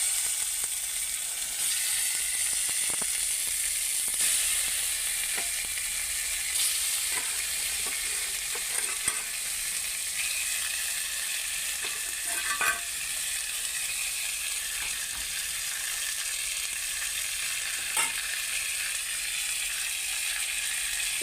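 Fish fries in a kadai with a little oil, giving a constant hissing sizzle throughout, with a few faint clicks and pops, close and steady with no voices.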